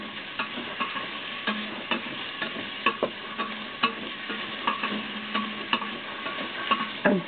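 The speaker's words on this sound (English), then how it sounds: "I just have to saute them all together until the pork, until the pork changes its color to a little brownish" Pork sizzling as it is sautéed in a pan for tomato-based pork mechado, a steady frying hiss broken by frequent utensil stirring taps, close and moderately loud with no talking.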